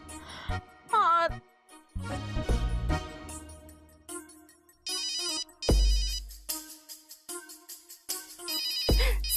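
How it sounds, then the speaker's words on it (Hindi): A phone ringtone chimes in short melodic bursts, repeating several times at close range with brief pauses between rings. "राधिका को फोन लगाती हूँ"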